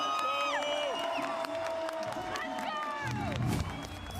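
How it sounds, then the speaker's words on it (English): A large arena crowd at a Valorant VCT Champions Istanbul 2022 esports match cheers and roars continuously under layered synthetic game effects, with a surge of noise near the end. "Jubilation from the crowd as Fnatic have roared their way back into this."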